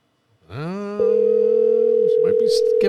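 A telephone line tone while calling someone, a steady loud hum that holds without a break for about two seconds, with a brief faint voice-like sound at the start and a few clicks near the end.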